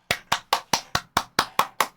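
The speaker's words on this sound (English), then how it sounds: "Everyone give him a huge round of applause" A single pair of hands claps nine times in a quick, even rhythm, each clap sharp and close with a short decay, heard without talk.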